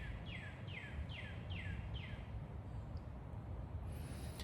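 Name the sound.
birds chirping outdoors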